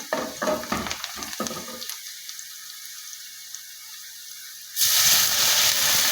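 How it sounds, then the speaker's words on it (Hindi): Onions frying until lightly browned in a pan for dhaba style dal chawal, a crackling, stirring sizzle at the start, then a quieter hiss, then a sudden loud sizzling surge. "प्याज को हल्का ब्राउन करना है।"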